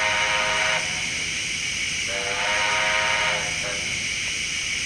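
A model railway locomotive sound unit gives whistles near a level crossing, two sustained whistle blasts over a steady mechanical rumble, clear and close with no voices.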